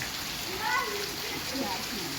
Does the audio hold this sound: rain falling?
yes